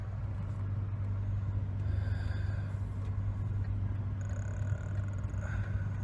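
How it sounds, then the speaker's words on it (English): A car creeps along a street during parking, its engine giving a steady low rumble with faint traffic noise throughout, no voices over it. "I'm trying to park the car now."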